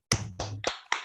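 Four sharp, separate claps sound close and clear in a quick rhythmic pattern, a classroom-style Tepuk PPK clap chant with no voices.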